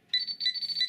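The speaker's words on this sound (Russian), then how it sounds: "Это калибровка. Нажимаем кнопочку. Пропикал." Cheap pinpointer metal detector beeping during calibration: a clear, high electronic tone sounding in short repeated pulses, fairly close and alone.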